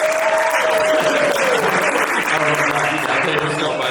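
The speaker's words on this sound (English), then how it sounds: "Where's my clapping?" Comedy club crowd clapping for a stand-up comic, loud dense applause with a few cheers and voices mixed in throughout.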